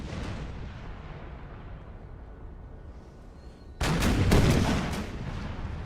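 Cannon artillery fire from a British army in the strategy game Empire Total War, a loud cluster of booming shots after a stretch of low battlefield rumble.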